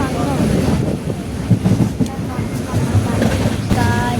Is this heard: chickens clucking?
no